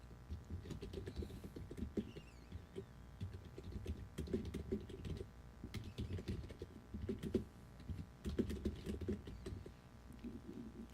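Someone types a filter name on a computer keyboard in quick, irregular bursts of close, soft key clicks with short pauses between runs.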